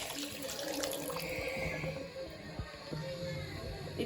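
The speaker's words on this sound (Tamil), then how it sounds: "இப்போ தண்ணி ஊற்ற போகிறோம்." Water runs steadily into a cooking pot for wheat rava biryani, a continuous splashing pour at close range with faint drips and no talk over it.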